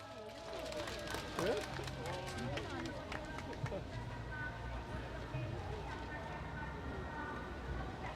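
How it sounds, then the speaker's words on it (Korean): An outdoor crowd at a National Foundation Day protest rally claps to welcome the next speaker, with a steady patter of applause running throughout while voices talk and murmur over it. "박수로 환영하겠습니다"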